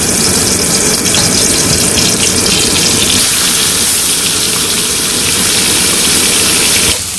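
Turmeric- and chili-coated fish frying in hot oil in a wok in a village kitchen, a loud, continuous close-up sizzle with a steady hissing roar that barely changes throughout.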